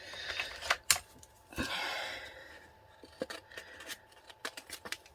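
A few quick scissor snips and crisp paper cutting sounds, close up, separated by brief pauses and small handling noises.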